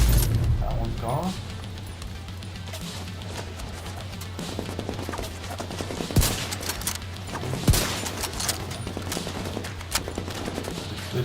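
A fast-firing gun in a video game lets off bursts of shots over a constant mechanical background, with several louder, sharper reports standing out midway while a voice talks over the action.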